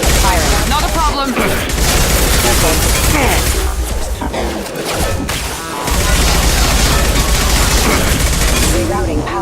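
Loud, continuous firefight in the video game Mass Effect, with gunshots and blasts packed densely through the whole stretch and a brief dip near the middle. Character voices and effects sit in the mix.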